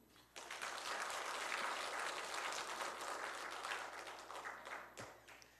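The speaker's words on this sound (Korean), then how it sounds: "하나님께 영광의 박수" A church congregation bursts into sustained applause at a Sunday service, a dense wash of many hands clapping that starts abruptly, holds steady for several seconds and tapers off.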